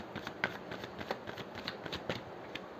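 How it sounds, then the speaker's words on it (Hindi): A deck of tarot cards being handled and shuffled up close, giving crisp papery rustles with several sharp flicks and snaps spread through the passage, with no voices. "पहले हम कार्ड्स और ओपन कर लेते हैं"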